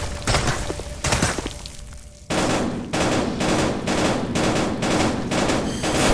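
Loud bursts of rapid gunfire repeat in a VR video game, with rattling automatic volleys and sharp impacts coming in quick succession.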